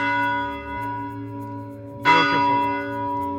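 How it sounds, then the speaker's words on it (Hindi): Church bells ring at midnight on Christmas, a sustained metallic tone with a fresh louder strike partway through, resonant and fairly near, with a brief spoken exclamation. "घंटी की आवाज सुनाई दे रही है।"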